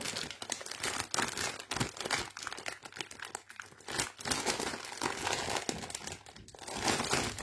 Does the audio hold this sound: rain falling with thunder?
no